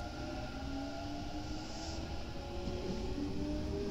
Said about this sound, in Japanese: 列車は淀川駅を出発してまいります。